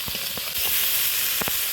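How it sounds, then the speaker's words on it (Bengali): Potatoes, eggplant and greens hit hot oil in a pan already holding fried prawns, onion and chili, giving a steady loud sizzle and hiss with a few soft clinks, no talk. "চিংড়ি মাছ, পেঁয়াজ, লঙ্কা ভালো করে ভেজে নিয়েছি, এবার কেটে ধুয়ে রাখা আলু, বেগুন, শাকটা দিয়ে দেবো"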